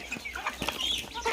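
Chickens on a rural provincial farm in the Philippines cluck in a brief, faint burst of short, close calls with no talking.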